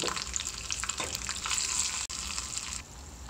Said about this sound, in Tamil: கடுகு உளுந்து நல்லா பொரிஞ்ச உடனே உளுந்து நல்லா செவந்ததுக்கப்புறம் கருவேப்பிலை கொத்தமல்லி கொஞ்சமாக எடுத்து வச்சுருக்கோம் இல்லையா, அது போட்டுக்கலாம்.